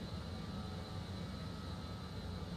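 Steady, loud cabin drone of a BAe 146-300's jet engines during a takeoff roll in Microsoft Flight Simulator 2020, a continuous broadband roar with a faint high whine on top and no voices.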